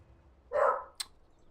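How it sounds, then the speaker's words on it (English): A single dog bark rings out indoors at moderate distance, short and sharp, followed by a faint click, over a quiet background. "Sorry about the dog."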